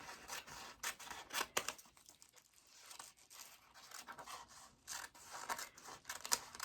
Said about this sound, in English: I'm going to cut right on the line.